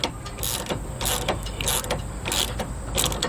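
A ratchet fitted with a 3/4 inch socket loosens hardware on a towed vehicle, a rapid close metallic clicking of the pawl in repeated bursts, loud and alone.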